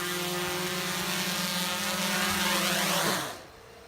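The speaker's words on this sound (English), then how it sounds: "This thing's pretty direct from where it took off from." A camera drone, compared between a GoPro Karma and a DJI Phantom 4, hovers with a close, steady whining propeller buzz that rises slightly, then abruptly cuts off as it lands and the motors stop.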